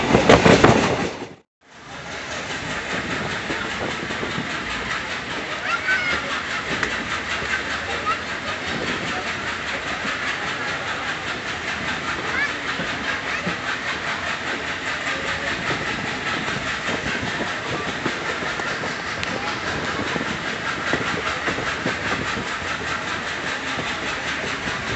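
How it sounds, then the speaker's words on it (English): A train climbing uphill on rails through a wet, green mountainside, heard as a continuous loud rumble and hiss with faint rhythmic clatter, steady throughout after a brief drop near the start. "The train is sort of sneaking uphill"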